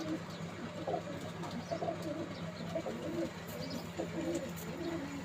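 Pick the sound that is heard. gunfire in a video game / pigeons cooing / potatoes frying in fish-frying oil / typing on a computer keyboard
pigeons cooing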